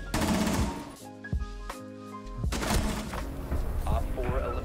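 Dense rapid gunfire in a shooter video game, continuous bursts of automatic fire and thumps filling most of the clip, loud and close, with a brief tonal interface sound in the middle and voices talking faintly underneath.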